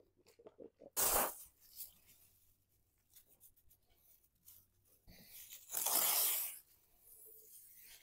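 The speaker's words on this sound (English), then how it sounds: "Get my plastic and I'm gonna tape my wood up, my lights, and" Tape torn off a roll to mask wood and lights on a trailer before bed-liner coating gives two loud ripping bursts, one short near the start and a longer one later, with quiet rustling and handling between.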